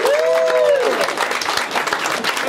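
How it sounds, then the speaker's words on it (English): Steady, dense clapping from an audience at the Merck Rainbow Alliance 2012 awards ceremony, loud and continuous throughout, with a brief high whistle-like tone near the start. "Another big round of applause."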